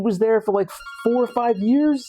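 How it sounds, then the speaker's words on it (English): A telephone rings faintly in the background as a thin, steady electronic tone. Someone talks over it the whole time. "Sorry about the ringing phone."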